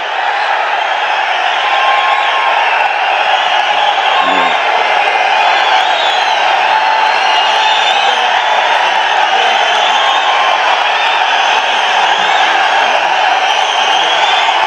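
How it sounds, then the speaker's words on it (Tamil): Continuous crowd noise at a political rally, a steady loud wash of applause and cheering with no break from start to end. "அந்த சத்தம் ஓயாம கைத்தட்டல் சத்தம் கேட்டுக்கிட்டே இருக்குது"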